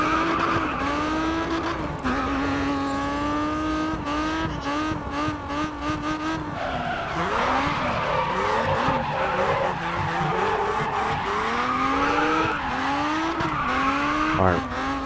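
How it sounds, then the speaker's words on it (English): Tires squeal in long, wavering skids as a car drifts through corners in the racing game Grid Autosport, loud and continuous with the engine droning beneath, repeated slides swelling and fading. "Drifting is real."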